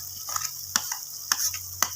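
Onion frying in a pan and being stirred, with a steady bright sizzle broken by several sharp spoon scrapes and clinks at irregular intervals, close and quiet, with no talk.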